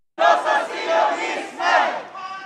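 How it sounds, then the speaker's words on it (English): A crowd chanting at a pro-Palestinian rally in Stockholm, many voices shouting in loud rhythmic unison at close range, with phrases rising and falling in waves. "With the crowd at a pro-Palestinian rally in Stockholm."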